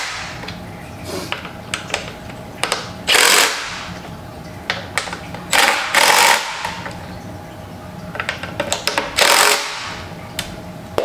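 A power driver fires in short ratcheting bursts, torquing bolts into threaded inserts while building an office chair, with loud clustered rattles between quieter pauses, close by.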